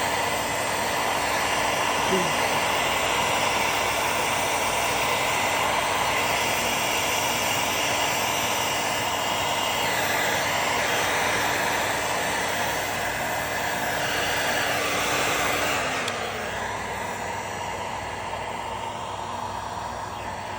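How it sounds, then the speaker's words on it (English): A heat gun blows with a steady, loud whooshing roar for most of the span, then its tone drops and shifts near the end as it changes speed or is switched down. "So now what I'm going to do is I think I'll get the heat gun."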